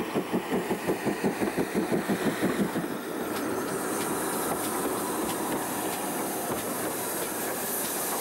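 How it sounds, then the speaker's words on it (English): GWR locomotive number 5637 working the Cheddar Valley branch line gives a run of evenly spaced, chuffing exhaust beats. They fade into a steady rolling rumble with a faint high hiss, close by and with no voices. "number 5637, on loan from the Swindon and Cricklade Railway, gives a GWR atmosphere to the present line"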